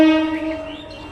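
A train on a railway line near Kolkata sounds a steady, loud tonal horn, close by and alone, fading slightly over about a second.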